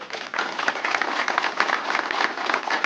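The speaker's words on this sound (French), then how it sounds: "Je voudrais qu'on l'applaudisse." An audience bursts into steady, dense applause at a family hunting gathering, many hands clapping together close by, continuous and lively throughout.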